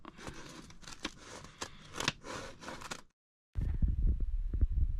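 Scissors cut through paper, shaping a paper Christmas tree decoration, with a close, busy run of crisp snips and rustles. A brief silence follows, then quieter handling and cutting noises.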